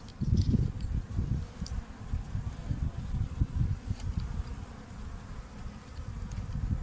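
Many honeybees buzz densely and continuously around a hive in early spring, a low droning hum that swells and fades as they fly around.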